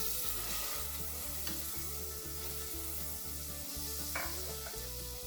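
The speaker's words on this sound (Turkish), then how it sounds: "Öncelikle tencereye tereyağımı atıyorum." Butter melts and sizzles in a pot as the base for a cauliflower gratin, a steady close frying hiss running through the whole stretch beneath a rhythmic musical backing.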